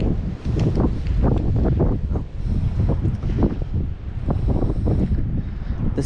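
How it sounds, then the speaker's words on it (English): Strong gusty wind buffeting the microphone while fishing outdoors, a loud continuous rumbling roar with uneven surges throughout, no talking heard. "And this wind also doesn't help as well"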